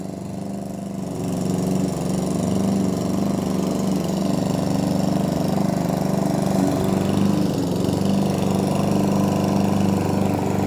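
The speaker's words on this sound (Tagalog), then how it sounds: "Nalapitan na natin yung pangdambo guys." A small engine runs steadily at a constant droning pitch, like a grass cutter idling nearby, with no talking.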